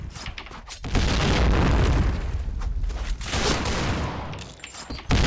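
A C5 explosive detonating in the shooter Point Blank, a loud, sustained roaring blast with dense rumbling gunfire-like bursts that fill the whole clip, then briefly dip before a fresh burst at the end.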